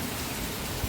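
Heavy evening rain falls steadily as a dense, even wash of noise with no pauses, close around and without voices.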